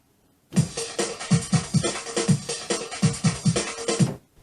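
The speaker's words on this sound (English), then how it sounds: "Let's start by sampling our drum loop." Drum loop sampled from a Yamaha PSR-E473 / PSR-EW425 arranger keyboard, a steady beat of regular kick and snare hits with cymbals across about four seconds, loud and clear with no talking.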